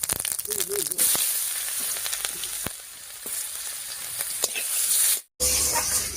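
Chopped onion hits hot oil with whole cumin seeds and sizzles steadily, with scattered crackles and a few clinks of a stirring utensil against the pan.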